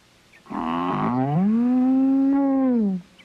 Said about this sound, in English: Nobody's going to get my Lena, the only blue cheese cow in the world.